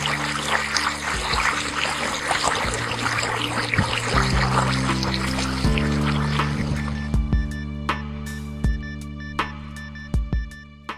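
Water trickles in the shallow bed of the Cedron river after a dry stretch, a soft close gurgle for several seconds that gives way to sparse bright drips and small plops near the end.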